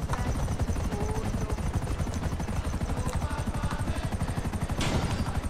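A helicopter in the video game GTA Online flies with a loud, steady rotor chop throughout, and a brief sharper burst comes near the end.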